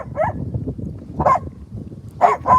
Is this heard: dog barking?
yes